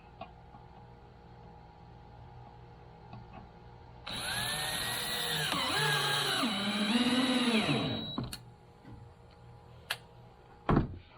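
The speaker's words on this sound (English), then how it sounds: "now I'm gonna start screwing these together" A power drill drives screws into DIY louver window parts for a house or shed, whirring steadily for about four seconds with rising and falling pitch, then stopping, followed by a few sharp knocks as parts are handled.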